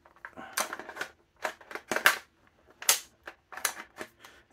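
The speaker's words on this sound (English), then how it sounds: "clicking at the back like an AK mag" A&Y AY-3M airsoft rifle magazine handled and seated, AK-style front-in with a catch at the back, giving a series of sharp, close, separate plastic clicks and clacks with quiet gaps between them.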